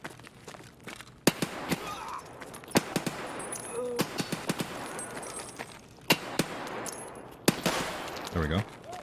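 Rapid hip-fire gunshots in Escape From Tarkov, a series of sharp cracks in short bursts and single shots spread across the stretch, fairly close and loud over quieter game ambience.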